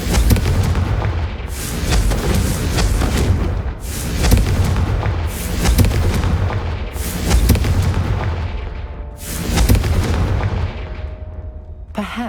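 Repeated heavy booms from Confringo explosion spells in Hogwarts Legacy, six or so loud blasts spaced a second or two apart, each with a rumbling decay, close and dominant with no talking.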